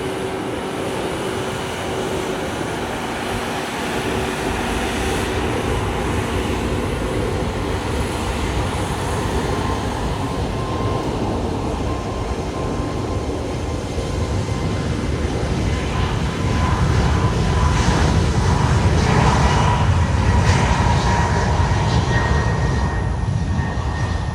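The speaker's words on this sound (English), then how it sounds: "which we will be expecting a full power takeoff" Spirit Airlines Airbus A321neo on a full power takeoff at San Juan airport, a loud sustained engine roar that swells toward the end, heard from the spotting area.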